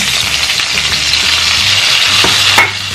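Fresh tomato drops into hot oil with fried chilies, setting off a loud, steady sizzle and crackle close up, with a brief sharp clatter near the end.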